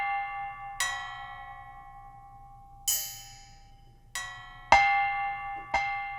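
Bell-like metallic tones from a Sample Logic Waterharp Xpressions sampled water harp, five separate struck hits with bright shimmering overtones, each ringing out and slowly decaying over a low steady hum, heard alone.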